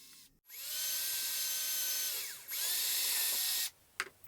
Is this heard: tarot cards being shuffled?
no